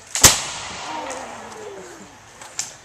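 A musket fired outdoors in New England: one sharp, loud report with a long fading tail, then a second, softer crack near the end.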